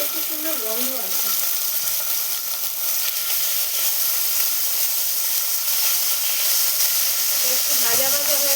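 Garlic paste sizzling and frying in a hot pan with oil, a loud steady hiss throughout as a voice speaks over it.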